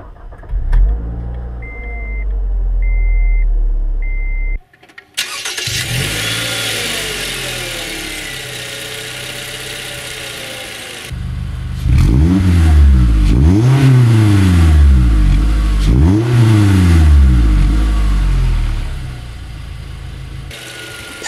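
A 2014 Scion tC's 2.5-liter four-cylinder engine is started with a chime and cranking, settles into a steady idle, then revs up and down in several loud, close swells.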